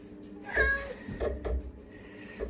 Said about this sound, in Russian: Видите, кот дворовый и очень хочет выбежать.